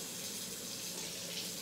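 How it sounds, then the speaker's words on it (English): Hot water streams steadily from a kitchen tap, a continuous, even hiss and splash close by with no pauses. "so we got our hot water going here."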